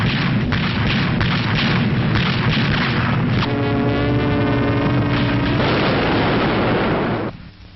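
WWII anti-aircraft guns crewed by the Home Guard, ATS women and Americans fire a heavy, continuous barrage of booms under a steady roar, with a brief sustained tone partway through. The barrage cuts off sharply at the end.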